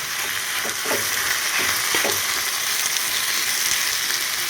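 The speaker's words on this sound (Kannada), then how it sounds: "ಇದು ಫ್ರೈ ಆಗಬೇಕು ಫ್ರೈ ಆಗಲಿ" Beetroot frying in a pan gives a dense, even sizzle up close, with a few soft scraping stirs early on and no voices.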